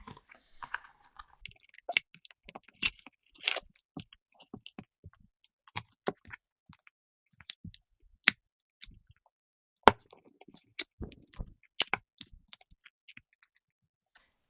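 A hard plastic Jeffree Star Alien makeup palette is struck and pried at, giving scattered sharp clicks, taps and cracks in irregular bursts with quiet gaps between them, close and dry.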